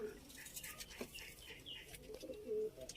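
A female Shirazi pigeon coos softly in a short, low, rolling call, with faint background chatter and rustling around it.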